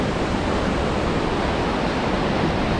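Water roars in a dense, steady rush from the Alta Cachoeira Boa Vista waterfall near Ipoema, close and loud, with no voices.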